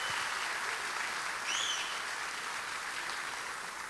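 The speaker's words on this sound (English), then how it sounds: "So give our speakers a round of applause, if you wouldn't mind" Soft, distant applause from a banquet audience for the speakers, a continuous even patter of clapping with a faint brief whistle-like tone partway through.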